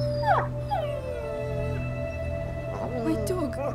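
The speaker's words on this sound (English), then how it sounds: "My dog." A dog whimpers and yips in the video game A Plague Tale: Innocence, with several high, wavering whines rising and falling over a low steady background hum.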